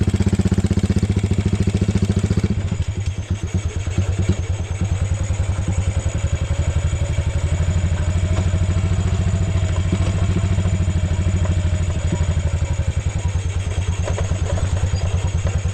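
A motorcycle engine runs loudly and steadily nearby, its rapid low putter shifting in tone after a couple of seconds, then holding an even idle.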